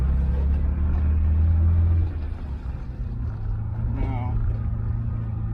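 An air-cooled 1973–89 Porsche 911 G-body drives with a steady, close engine rumble that eases back slightly partway through, and a voice speaks briefly over it.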